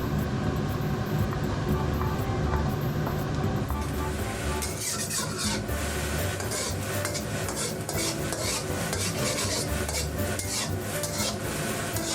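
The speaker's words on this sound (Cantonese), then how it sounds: "不時咁樣攪拌下佢，但係又唔好搞太犀利喎" Eggs scrambling slowly over low heat in a pan, stirred and scraped with a utensil in continuous gentle strokes over a soft sizzle, steady and close throughout.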